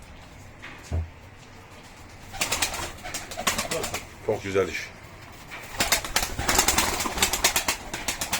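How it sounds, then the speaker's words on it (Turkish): Pigeons coo and flutter nearby in a busy, rustling group, while someone speaks briefly over them. "Arkadaşlar kuşlara bakın."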